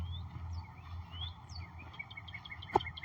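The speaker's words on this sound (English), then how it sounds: "You hear the bird chirping." Small birds chirp outdoors on a walk beside a power line, scattered short high tweets recurring across the stretch over a low steady background hum, with one brief louder chirp near the end.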